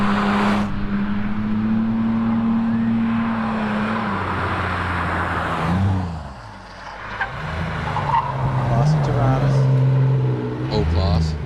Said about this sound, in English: As we see the Tirana making its way up the top of the mountain